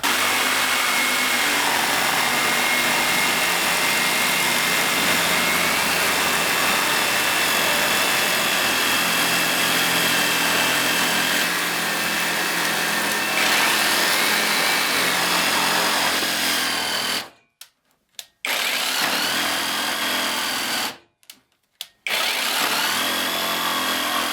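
Cordless jigsaw with a copy Makita-style battery body cutting two stacked 30 mm boards under heavy load, a loud continuous buzzing rasp close by, broken twice by brief stops.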